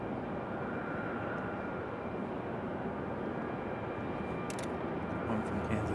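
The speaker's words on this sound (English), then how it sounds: "United 1502 from Chicago on the 737-900" A United 737-900 jet airliner at Raleigh-Durham International Airport gives a steady, distant roar of jet engines, continuous and fairly faint, with brief faint talk near the end.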